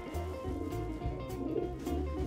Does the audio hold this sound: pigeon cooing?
yes